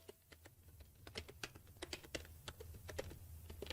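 Rapid keystrokes on a computer keyboard as a file name is entered, an irregular run of crisp clicks at close range with short pauses between bursts, no voices.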